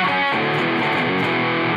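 Electric guitar played through a Helix/HX Stomp distortion patch with some bass trimmed, a sustained overdriven chord-like tone ringing continuously and loud for about two seconds with no talking.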